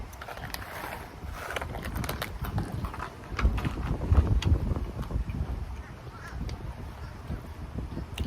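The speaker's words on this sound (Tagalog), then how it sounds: "mahangin dito guys" Wind gusts outdoors beside a swimming pool, buffeting the microphone in an uneven, rumbling rush with scattered knocks and rustles, fairly close and continuous without speech.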